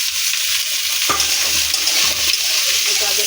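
Beans and carrots frying with leftover rice in a pan, salted to taste; a loud, dense, close sizzle runs throughout, with a burst of spatula stirring partway through and no talk.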